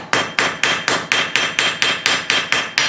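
Hammer forging hot steel on an anvil to thin the jaw of bolt jaw tongs, a dozen loud, ringing metallic strikes in an even, steady rhythm, each decaying briefly, close and without talk.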